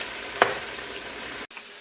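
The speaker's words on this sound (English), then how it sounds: "I'm just going to take this spoon and I'm just going to mix all the colors together" A spoon stirring colourful vegetables in a hot pan, a continuous close sizzle with one sharp scrape or clack early on, then a sudden brief cut before the frying resumes, no talk.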